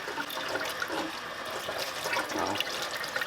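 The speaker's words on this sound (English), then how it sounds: "just running some water over it should get all the dust and dirt and grime off of it" Tap water runs steadily over a dusty Bissell Pet Eraser vacuum filter screen as it is rinsed, a continuous close splashing hiss with no talk.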